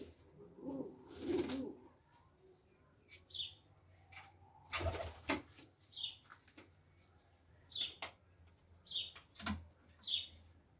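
Golden pigeons coo softly in repeated short bursts at a distance, with a few louder rustles and wing flaps between them.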